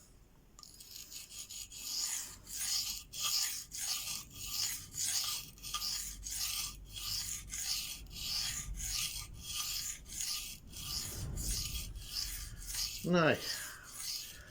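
A knife blade is drawn again and again across Venev diamond sharpening stones, a close, rhythmic gritty rasp of about two dozen even strokes. A brief word is spoken and a short ringing scrape comes near the end.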